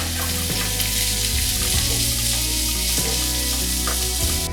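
Two long-sliced onions sautéing in a pan for a fish mango curry, a loud constant sizzle with low rumbling from the pan, no speech.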